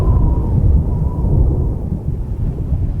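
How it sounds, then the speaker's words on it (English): Deep, loud thunder rolls continuously through a storm, a low sustained rumble with no voices over it. "Second rumbles."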